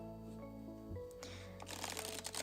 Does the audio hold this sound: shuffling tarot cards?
yes